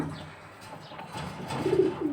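Racing pigeons with good pedigrees coo softly, a low rolling coo rising near the end, over a faint murmur of background noise.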